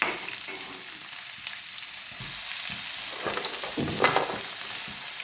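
Chopped vegetables and tomato fry steadily in a pan for masala rice, a continuous close sizzle with occasional stirring scrapes and small pops, no voices.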